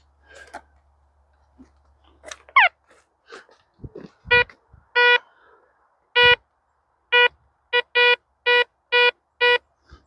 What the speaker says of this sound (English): And we'll get the metal detector.